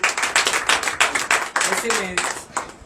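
Congregation at a morning prayer service clapping in acclamation, a run of sharp rhythmic claps with voices heard alongside.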